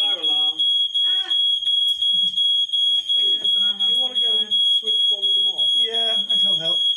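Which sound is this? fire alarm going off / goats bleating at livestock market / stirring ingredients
fire alarm going off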